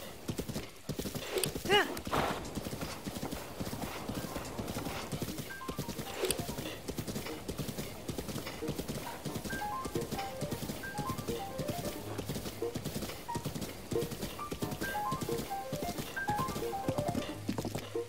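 A horse in Breath of the Wild gallops with rapid, steady clip-clop hoofbeats and lets out a neigh, with in-game music and occasional talk layered over it.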